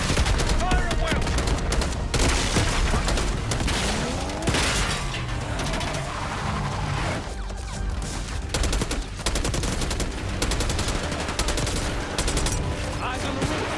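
Dense battle gunfire in Call of Duty: Black Ops 6, loud continuous volleys of rifle and machine-gun shots with booming impacts and rattling mechanisms, packed close together.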